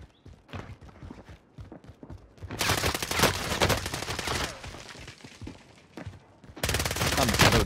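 Lapa SMG bursts in Call of Duty: Warzone: scattered single shots, then loud sustained rapid fire, a quieter gap with sporadic shots, and another heavy burst at the end.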